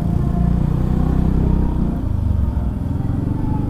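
A Yamaha Xmax 250 scooter from 2018 pulls away uphill from a junction, its engine droning steadily and close, with a slight rise then easing as it climbs, no voices over it.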